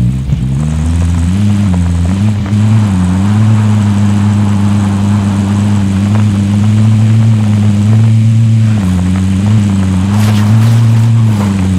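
Vehicle engine droning steadily as it drives in Call of Duty Warzone Pacific, a loud low mid-pitched motor hum with slight revving shifts, continuous and close throughout.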